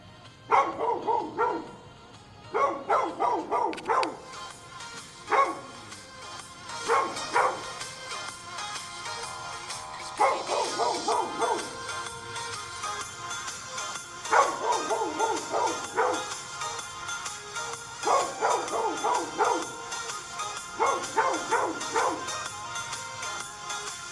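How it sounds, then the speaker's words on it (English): A puppy barks in repeated clusters of sharp, high yaps, close and loud, continuing steadily with brief pauses between bursts and no talk. "I don't even think he's done barking."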